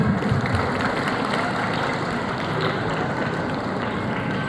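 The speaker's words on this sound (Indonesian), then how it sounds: "tepuk tangan" Audience applause for Quran memorizers, one of them having memorized 30 juz, a dense and sustained clapping from a large crowd at a steady level throughout.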